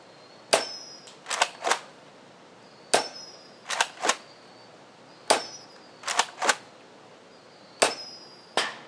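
Gunshots from Sonic rounds fired at targets, in sharp, loud single cracks and quick pairs or triples with short pauses between, about a dozen shots over several seconds and no talking.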